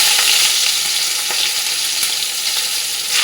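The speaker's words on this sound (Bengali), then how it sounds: "আর এইদিকে দেখো আমি ভেজিটেবলটা ভেজে নেবো ভালো করে" Vegetables fry in hot white oil in a wok for chowmein, a loud, steady sizzling hiss with faint scraping of stirring now and then.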